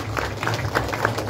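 Audience applause at the Miss Ambo 2022 candidate presentation, a crowd clapping in quick irregular bursts over a steady room hum, moderately distant and not very loud.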